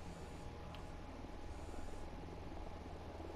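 Helicopter in the video game Ghost Recon Wildlands, a steady rotor and engine drone that holds at an even, moderately loud level throughout with no speech over it.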